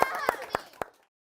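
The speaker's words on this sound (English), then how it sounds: "give yourselves a round of applause for being awesome, guys" Students in a classroom submersible-design lesson give a few quick claps, four sharp near hits mixed with children's voices before it falls silent.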